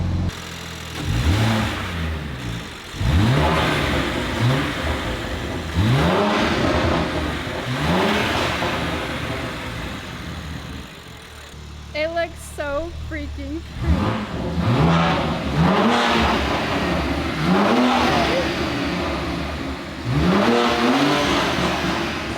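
A BMW G87 M2 engine revs repeatedly in rising sweeps with a throaty intake whoosh of induction noise, close and loud, while a person speaks briefly over it.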